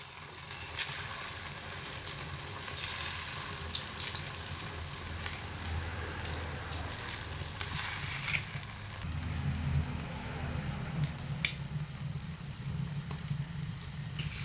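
An egg and flour batter frying in oil, with a steady soft sizzle and faint scraping as a spatula turns it over, heard close and without talk.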